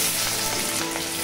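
Onions sizzling as they hit hot oil in a pan, a steady close hiss of frying with no voices over it.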